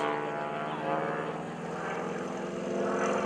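A propeller aerobatic airplane pulling through a quarter cloverleaf at a summer airshow, its engine droning steadily with a rising and falling pitch as it passes overhead at moderate distance, no talk over it.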